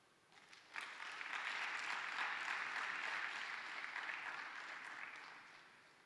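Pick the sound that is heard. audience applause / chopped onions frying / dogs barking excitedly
audience applause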